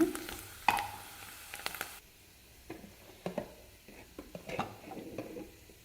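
Grated coconut roasts in ghee in a pan for a sweet mung dal dish, a soft sizzle broken by scattered scrapes and clinks of stirring, close and with no one talking.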